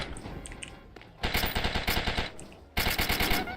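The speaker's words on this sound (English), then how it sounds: "Using the SMG for the melee enemies." Bursts of rapid submachine gun fire in a shooter video game, two long sustained volleys of dense, loud automatic shots aimed at melee enemies, with a quieter stretch of game noise before and between them.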